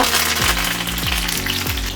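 Curry leaves crackle and hiss in hot oil in a dense, continuous sizzle at close range, with faint music playing underneath.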